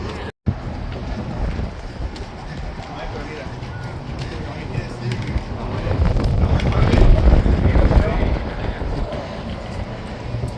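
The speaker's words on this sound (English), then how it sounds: "It's windy up here too." Steady gusty wind roars across the microphone up on a dam bridge during a tour, a dense rumbling rush that swells louder toward the end of the stretch.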